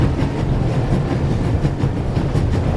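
A train running at full speed in the video game The Raven gives a loud, continuous rumble and rattle of cars on the rails, with no speech.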